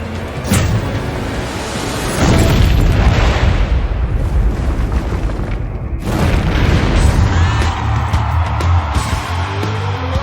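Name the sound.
tanker explosion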